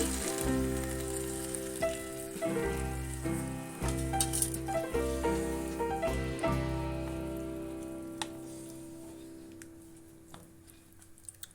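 Water hits a hot pan of chicken stew with winter vegetables, giving a rain-like patter of sizzling and bubbling that gradually softens and fades, ending in a few faint clicks.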